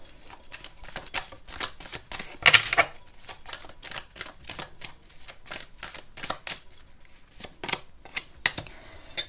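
Tarot cards shuffled by hand at close range: soft, rapid riffling and flicking bursts in an irregular rhythm, fairly quiet, with no talk over them.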